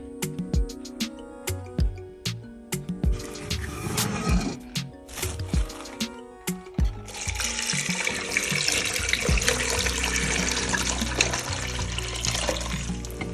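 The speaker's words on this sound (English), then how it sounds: "Then I'm gonna add some water." Water is poured into a pot of mauby ingredients with star anise, starting with a few splashes and knocks, then becoming a steady, loud, close gushing stream that fills the pot.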